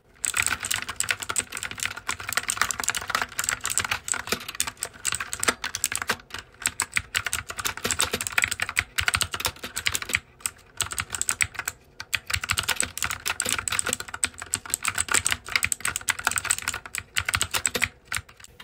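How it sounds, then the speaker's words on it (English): A MAGEGEE MK-BOX gaming keyboard with blue mechanical switches is typed on continuously at close range, giving a dense stream of sharp, clicky keystrokes with no talk. "Let's hear how this keyboard's keys sound. Again, this is a blue switch keyboard"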